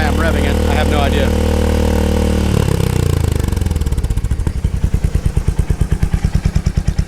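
A Royal Enfield Hunter 350 single-cylinder engine with a Coffman's short slip-on exhaust revs loud and close, then drops to a slow, lumpy idle with distinct pulsing firing beats.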